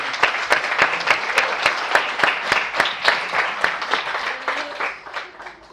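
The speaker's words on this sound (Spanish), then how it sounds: "Dale un aplauso a nuestro Señor Jesucristo." A church congregation claps steadily during a sermon, sharp overlapping hand claps forming sustained applause that tapers slightly toward the end.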